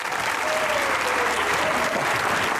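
Enthusiastic studio audience applause welcoming Pakistan's former foreign minister Shah Mahmood Qureshi onto a show, a loud, dense, unbroken wall of clapping with a faint crowd murmur.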